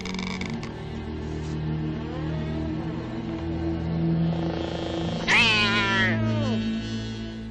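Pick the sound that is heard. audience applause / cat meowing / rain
cat meowing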